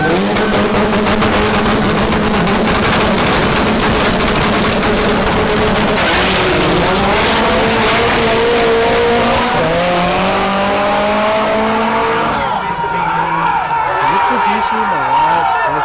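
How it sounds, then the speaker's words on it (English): A Mitsubishi Mirage drag car makes a no-prep run at Orlando Speed World, its engine revving hard and loud with rising and falling pitch throughout, while a commentator talks over it. "That is a 9-second Mitsubishi Mirage"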